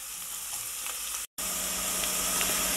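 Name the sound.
onions frying in oil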